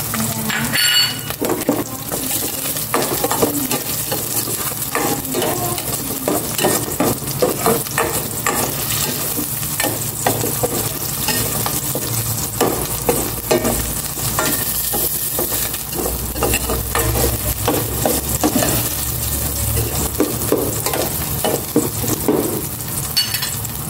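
Chopped onion sautés in hot cooking oil in a pan, sizzling steadily and close up, with frequent scraping stir strokes and faint clinks of a utensil throughout.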